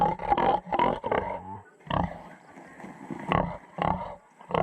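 Pigs on a small farm at feeding time grunt and squeal in several short, loud bursts, close by and irregular, with a little background noise between them.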